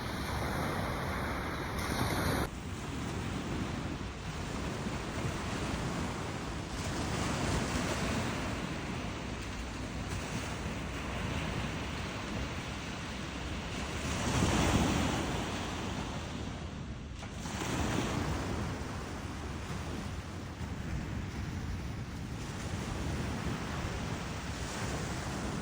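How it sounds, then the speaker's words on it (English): Steady ocean surf washing onto Al Musanah beach, a continuous loud roar of breaking waves with wind buffeting the microphone and swells rising and falling, no voices. "This is how the beach was before the cleaning started."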